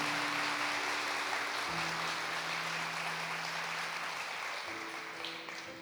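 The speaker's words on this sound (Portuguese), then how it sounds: "Pode aplaudir mesmo." Audience applause at a Catholic religious talk, a steady broad wash of clapping that holds for several seconds and eases slightly toward the end, with a low tonal hum underneath.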